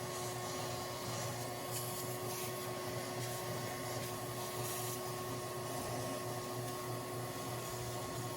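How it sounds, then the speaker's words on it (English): Steady, even whine of a vacuum cleaner drawing over cleaned starter parts for a 4.7 L Toyota Land Cruiser 100 Series, continuous and fairly quiet with a constant hum throughout. "we're about to vacuum them, and we're gonna blow out whatever's left and then vacuum again"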